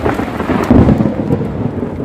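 Thunder rumbles low and heavy during a rainstorm, a sustained, close roll that swells and fades over steady rain hiss, with no voices.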